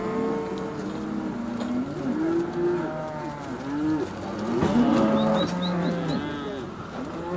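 Cattle on a large Hawaiian ranch low and moo repeatedly in overlapping calls from several animals, a steady herd chorus with occasional bird coos faintly above it.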